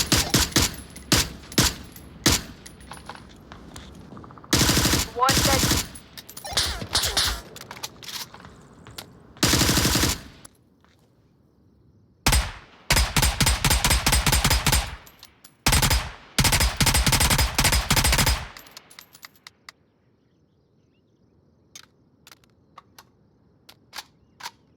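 Gunfire in the VR shooter Onward: rapid bursts of loud, punchy automatic fire alternate with single shots and short pauses, ending in a quieter tail of faint clicks.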